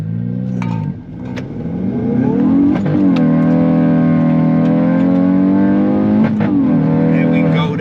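Hyundai i20N launching hard in a 0-60 mph run, the engine revving loud and close with rising pitch through the gears and brief dips at shifts, people talking over it.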